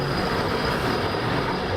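A train rolling near a station in Atlanta in hot summer weather, a steady broadband rumble and rush of wheels on rails, close and constant with no voices.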